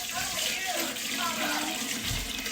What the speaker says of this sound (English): Now I'm going to add in beef broth.